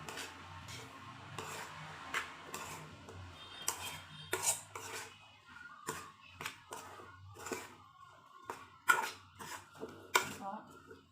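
A spoon clinks and scrapes against a bowl as homemade mango pickle is mixed with chili powder, a series of close, irregular taps and knocks with brief pauses between strokes.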